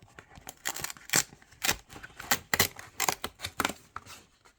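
A Lancôme advent calendar's first compartment is pried open, with a quick series of crisp cardboard snaps, tears and rustles, fairly quiet and close, and no voice over them.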